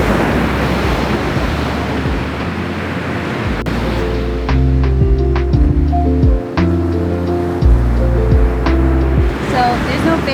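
Ocean surf rolls and washes onto a Long Island beach with strong wind buffeting the microphone, loud and continuous, with other sounds joining partway through.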